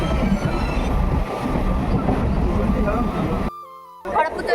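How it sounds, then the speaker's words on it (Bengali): Steady rumble of a passenger train rolling along from Jogpur toward Kharagpur, heard from on board, loud and continuous with a brief dropout near the end. "তো জগপুরে আমরা ট্রেনে উঠে গেছি।"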